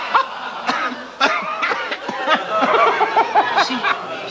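A man in a Bavarian courtroom comedy coughs repeatedly in short, uneven bursts, loud and close, with brief vocal sounds mixed between the coughs.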